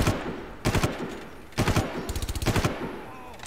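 Gunfire in the video game Far Cry, in three short loud bursts of rapid automatic shots separated by brief pauses, fairly close over faint background noise.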